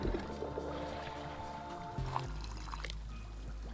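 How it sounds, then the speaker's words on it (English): Liquid pours in the video game Wanderstop, a short gentle stream that cuts off partway through, set against soft looping game music with no talk. "let's like half pour this"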